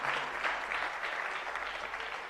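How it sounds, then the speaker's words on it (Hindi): An audience at a Hindi spiritual discourse breaks into hearty clapping, a brief dense burst of applause with no voices over it. "जरा जोरदार तालियां बजाइएगा।"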